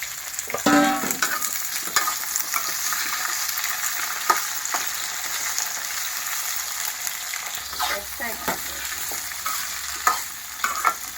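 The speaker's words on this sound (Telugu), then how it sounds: "ఇగో బీరకాయ, దొండకాయ వేస్తున్నాను." Ridge gourd and ivy gourd pieces sizzle and crackle in hot oil with fried chillies while being stirred, a steady frying hiss broken by scraping stir sounds.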